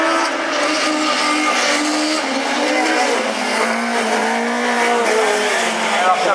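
During a Super 1600 rallycross round at Essay in 2015, a race car's wheels spin on the track. The engine howls and the tires churn loudly and steadily, with a commentator talking over it.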